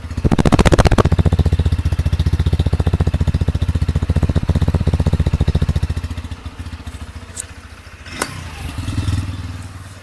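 A Bajaj Pulsar N125 motorcycle engine idles with a steady, close thumping rhythm, then drops lower and quieter. A couple of sharp clicks come near the end.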